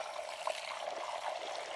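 A makeup brush swished and rinsed in a small container of water, giving faint, soft trickling and sloshing with a few light splashes, close and quiet, with no talking.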